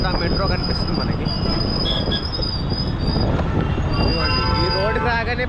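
A metro train rolls past loudly and continuously, its rumbling carriages accompanied by a sustained high metallic wheel squeal that rises and falls throughout, heard near a busy road.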